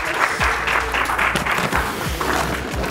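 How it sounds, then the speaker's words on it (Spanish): Applause for Patrick from a studio audience on a school-themed Spanish TV show, steady clapping across the whole stretch with a few voices mixed in underneath. "Un aplauso para Patrick."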